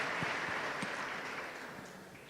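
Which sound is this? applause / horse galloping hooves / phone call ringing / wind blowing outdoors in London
applause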